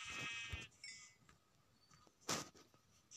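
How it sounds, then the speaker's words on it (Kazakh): A sheep in the video game Minecraft gives a clear, near bleat at the start, with a few faint clinks and soft game noises afterward and no speech. "Не достар, біздің бірінші қойымыз."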